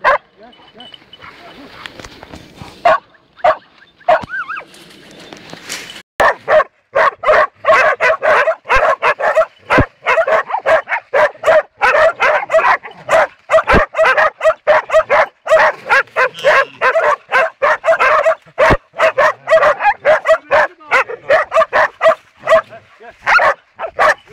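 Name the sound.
hunting dogs barking during a wild boar hunt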